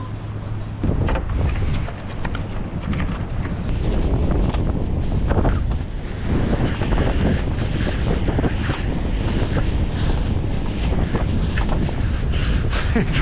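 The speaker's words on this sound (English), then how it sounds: "The wind was not that bad until I got out here on the beach. Now it's terrible." Strong wind buffets the microphone on an open beach, a loud, constant roaring rumble with gusty surges and the wash of surf underneath for the whole stretch.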